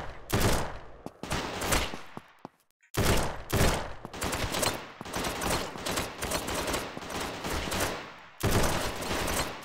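Rapid bursts of gunfire from the VR shooter game Contractors, played with a gunstock rig and haptic recoil device, fill the clip as dense loud volleys with a brief pause near the third second.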